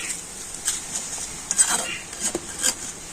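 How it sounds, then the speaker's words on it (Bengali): A metal spatula stirs raw rice frying in hot oil, scraping and clinking against the pan in irregular strokes over a faint, soft sizzle. The sound is close, with no voices. "আর খুন্তিতে কিন্তু এইভাবে নাড়াচাড়া করে নেব।"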